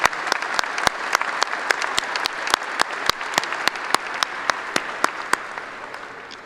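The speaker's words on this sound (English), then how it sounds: "please join me in applauding our regents" Commencement ceremony audience applauding the university regents, a loud, steady wash of many hands clapping with sharp individual claps standing out near the microphone, tapering slightly toward the end.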